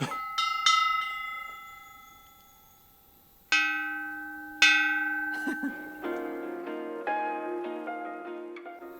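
Metal bells of an outdoor sound sculpture at a sculpture trail in Matakana, New Zealand, ring out in separate struck tones, each left to ring and fade, then a cluster of overlapping chimes near the end.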